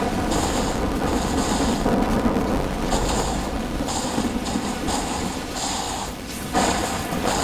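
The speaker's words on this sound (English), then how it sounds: "That storm is looking pretty terrifying over there." Death Stranding thunderstorm with heavy rain pouring steadily and low rolling thunder rumbling beneath it, loud and enveloping, with recurring high hissing gusts.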